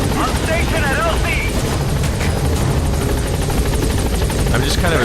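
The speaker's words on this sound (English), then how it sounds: "Alright, here comes a helicopter." A helicopter arrives in the video game Metal Gear Solid V: The Phantom Pain, its loud continuous rotor thrum filling the scene while voices talk over it.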